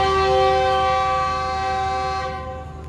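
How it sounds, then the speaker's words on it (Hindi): Green Line Express train at Malda railway station sounding a departure whistle: one steady, loud, harmonically rich horn blast held for over two seconds before it cuts off, with no talk. "फर्स्ट डिपार्टिंग विसल हो गया ट्रेन का।"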